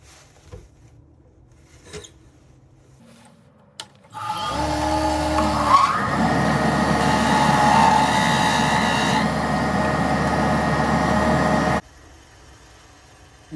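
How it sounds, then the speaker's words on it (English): A drill bores a 27/64 inch hole into a pen blank, with a loud steady whine for about eight seconds after a few faint clicks, then cuts off abruptly. "So I have another drill bit for 27/64. I'm only going to go in about 3/8 of an inch on both sides."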